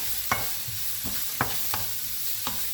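Frozen garlic sizzles softly and steadily in a frying pan while a utensil stirs it, with several distinct scraping strokes against the pan at irregular intervals. The sound is close and there is no speech.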